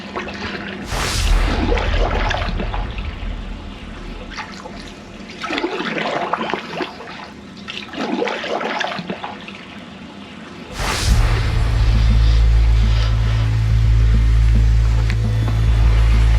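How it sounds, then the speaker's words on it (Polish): Rough, choppy water on Lake Vänern in strong wind, waves splashing and churning loudly against a small boat in a reed bed, with a heavy rushing roar building near the end; no one speaks. "Fala jest taka, że nie idzie płynąć."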